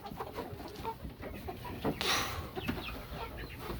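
A rooster and hens cluck in a coop bedded with maple and birch planer shavings, with scattered clucks and scratching sounds at moderate distance and one louder burst.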